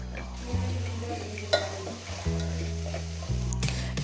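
Vegetables for a home-style vegetable pulao frying in a pan, stirred now and then, with a steady close sizzle and occasional scraping clinks of a spoon against metal; no talking.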